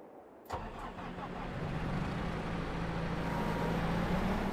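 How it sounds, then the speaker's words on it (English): A skid steer fitted with pallet forks starts up in Farming Simulator 22 on a farm in Korpi, Finland: a sudden ignition burst, then a steady mid-pitched engine drone that swells slightly as it keeps running. "I am going to get our skid steer with new pallet forks"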